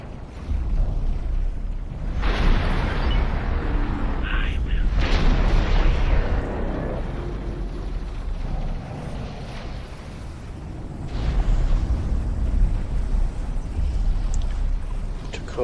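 Torpedo and laser hits exploding in a space battle in the strategy game Fleet Operations, heard as loud, continuous rumbling booms and blasts that swell and ebb, with talking over them.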